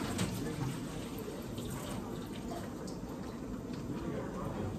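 Tap water running into a sink while placemats are washed, a soft, continuous splashing stream at low level with faint voices in the background.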